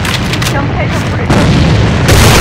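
A grenade explosion in the video game A.V.A on the Dock map: a loud, dense boom with heavy low rumble that keeps swelling through the clip, with game voice callouts underneath.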